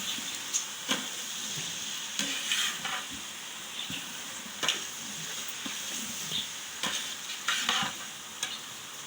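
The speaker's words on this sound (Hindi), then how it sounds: "अब जो है चनों को इसमें अच्छी तरीके से मिक्स कर लेंगे।" Boiled chickpeas, soaked overnight, are mixed into chana pulao in a pot, with a steady soft sizzle under repeated scraping stirs and sharp spoon-on-metal knocks at irregular intervals, close and moderately quiet.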